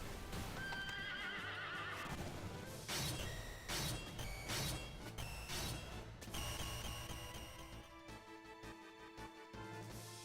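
A horse from the video game Final Fantasy VIII whinnies loudly amid clopping hooves, with clanking mechanical game effects and a few crashing booms woven through the sound.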